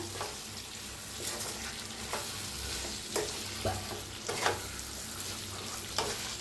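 Stuffed chillies fry in a pan with a steady low sizzle, while a utensil stirs and scrapes at intervals of roughly one second, close and alone.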